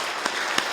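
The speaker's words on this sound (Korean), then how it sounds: "격려의 박수 한번 쳐주시면 좋겠습니다." A congregation gives a short round of encouraging applause at the close of a church worship service, a soft, steady patter of clapping with a couple of sharper individual claps standing out.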